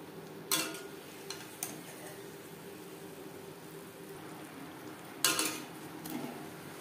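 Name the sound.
moong dal kachuri deep-frying in oil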